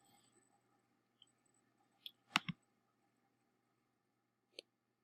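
A computer mouse clicks sparsely at close range in a quiet room: a couple of faint ticks, then a sharp double click, and one more isolated click a couple of seconds later.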